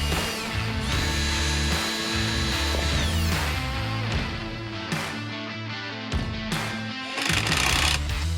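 A power drill pre-drills speaker screw holes during a DIY car audio system install, whining loudly and close in several bursts that rise and stop, with ratcheting mechanical noises between them.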